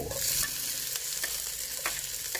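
Rice stir-fried with budu chili paste and tofu skin, a steady close sizzle with scraping stir strokes and occasional sharp clicks of a spatula against the pan, no talk.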